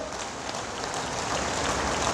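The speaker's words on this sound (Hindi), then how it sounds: "जोरदार तालियों से स्वागत।" Loud, dense applause welcoming guests at a BJP political event, a steady wash of many hands clapping with no gaps or talk for a couple of seconds.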